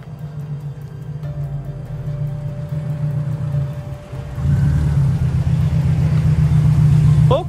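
A car engine rumbles nearby, first idling, then swelling louder and rougher about halfway through as the car pulls away, with a short sharp noise at the very end.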